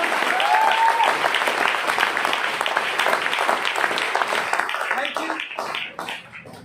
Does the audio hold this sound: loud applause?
yes